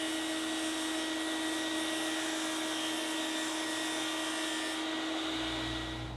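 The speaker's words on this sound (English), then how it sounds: "So I've got my blade on my saw tilted to 45 degrees. Just need to go ahead and cut that out" Table saw running with its blade tilted to 45 degrees for a bevel cut through wood, a steady loud whine with strong tonal bands that holds throughout and eases near the end, with no talking.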